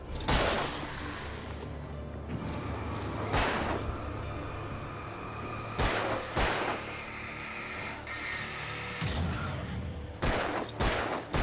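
Repeated gunshots from a revolver in the video game Alan Wake, several loud sharp bursts spaced a few seconds apart over a steady rumbling game ambience, no talking.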